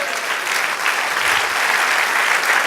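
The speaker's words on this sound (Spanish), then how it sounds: "Denle un aplauso al Señor." Congregation applause at a Spanish-language evangelical church service, loud, dense and even clapping sustained throughout without voices.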